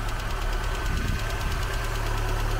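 A Rover 800 Turbo Coupe engine idles cold with a light, rapid ticking over its low steady rumble, close and continuous.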